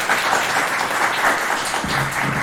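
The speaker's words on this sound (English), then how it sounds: "Let's give him a big round of applause." Applause from an audience at a computer vision talk, a steady wash of clapping that carries through the whole stretch with a faint low hum entering near the end.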